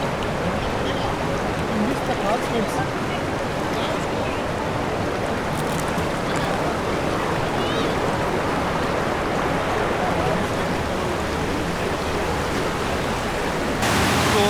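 Rushing mountain stream in the Partnachklamm gorge, Germany, a steady loud broadband roar of churning water that holds unbroken from start to finish.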